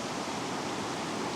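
A small creek flows beside a large river in Canada, giving a brief, even rush of water that stays close and constant, with no voices.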